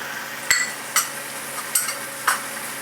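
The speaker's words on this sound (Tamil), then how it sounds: "இதை நல்லா மிக்ஸ் பண்ணி வேக வைப்போம்." Mint and coriander being stirred into a mutton biryani pot, a spoon scraping in four sharp strokes over a steady soft sizzle of frying.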